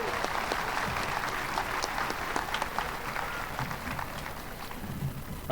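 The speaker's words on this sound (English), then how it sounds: "let's have another round of applause for each of the speakers and the special music tonight" A graduation crowd at Milton High School applauds the speakers and musicians with steady, dense clapping from a large audience, moderately loud and unbroken.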